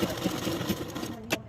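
Close sewing machine running steadily while stitching a blouse, a fast even whir with rhythmic needle ticks, with someone speaking over it.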